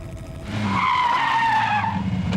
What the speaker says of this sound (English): Steve Fisher is also behind the wheel of a V8 Triumph sports car, blasting on down past Kangaroo Reservoir towards the Corkscrew